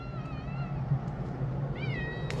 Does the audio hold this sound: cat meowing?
yes